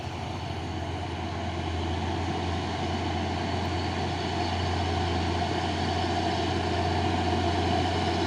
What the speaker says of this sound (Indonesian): Truk trailer Hino 500 membawa kontainer Kun Fayakun.